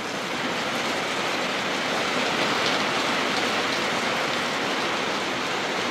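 Steady rain falling outdoors in Ben Tre, Vietnam, a dense, even hiss of drops that stays loud and unbroken throughout, with no voices.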